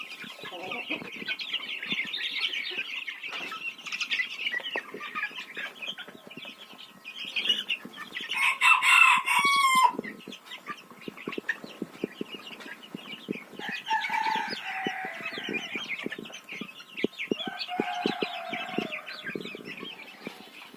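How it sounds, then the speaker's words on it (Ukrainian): Backyard chickens cluck steadily among quail, with a rooster crowing once in the middle and a brief flutter of wings, the birds close and moderately loud throughout. "Так само даю і курочкам, і перепілочкам."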